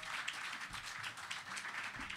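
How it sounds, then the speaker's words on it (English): An audience at a U.S. Senate field hearing applauds a departing panel with steady, dense clapping, faint and somewhat distant throughout. "how about a round of applause for our second panel here?"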